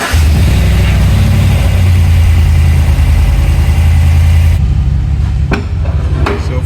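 A turbocharged Chevrolet Suburban engine cranks and catches, giving a loud, steady low rumble that cuts off abruptly partway through, followed by a few sharp knocks.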